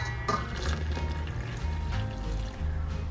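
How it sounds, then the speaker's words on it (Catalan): Lukewarm water pours steadily into a bowl of flour for pizza dough, a continuous close, gurgling stream heard alone without talk. "hi ficarem la farina, l'aigua tèbia"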